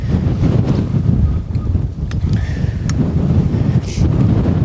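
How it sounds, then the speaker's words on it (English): Strong, gusty wind buffets a camera microphone outdoors at a shooting range, a loud continuous low roar with a few faint clicks and knocks and no speech. "I hope I'm getting some kind of audio because the wind is nuts."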